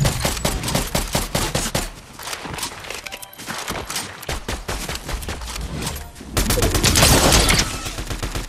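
Rapid bursts of automatic gunfire and scattered shots crackle through a Fortnite Chapter 5 match, loud and dense with brief lulls before a heavier volley near the end.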